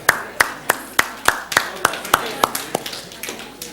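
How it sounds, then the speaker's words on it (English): A group of children claps together at a risk-awareness workshop, about a dozen sharp even beats in a steady rhythm, fading slightly toward the end. "Give yourselves a clap"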